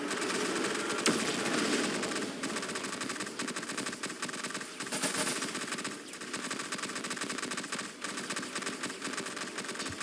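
Rapid, continuous automatic gunfire from a gun toilet enemy in the video game TDX, a dense, steady rattle that stays loud throughout with no voices.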